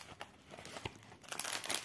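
Birthday gift packaging, including plastic wrap, is unwrapped close up with scattered crinkles and tearing rustles that build into a denser, louder crackle near the end.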